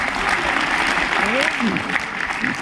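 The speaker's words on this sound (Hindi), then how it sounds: "एक बार बधाई की तालियां तो बनती है।" Applause for a poet at a poetry gathering in Delhi, a steady wash of clapping from the audience mixed with voices talking over it.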